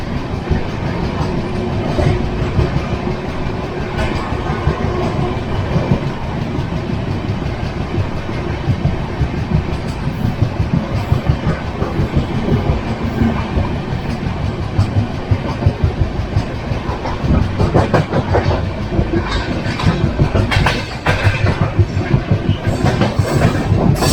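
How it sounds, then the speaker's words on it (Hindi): Duronto Express train rolling through Hazrat Nizamuddin railway station, a steady loud rumble with continuous clickety-clack of wagons passing close by for the whole stretch, no voices. "अपनी दुरंतो एक्सप्रेस स्किप करने वाली है हजरत निजामुद्दीन रेलवे स्टेशन"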